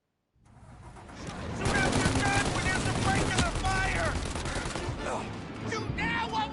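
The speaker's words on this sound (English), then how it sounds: "Shoot now while we got the chance!" Rapid automatic gunfire rattles in a 1930s city shootout in Mafia Definitive Edition, building to a loud, continuous barrage of overlapping shots as a voice shouts over the noise.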